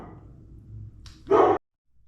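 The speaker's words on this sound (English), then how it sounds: "my dog was barking" A pet dog in a house gives a single loud, close bark right after faint earlier sounds, and then everything goes silent.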